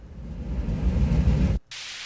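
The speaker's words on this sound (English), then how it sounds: "And then, of course, I have standard transition sound effects." A dense burst of white noise swells and rushes, cuts off abruptly into brief silence, then resumes as a thinner hiss: an electronic transition sweep in a synthwave song.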